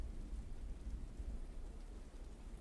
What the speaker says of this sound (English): Rain and snow pelt against your body.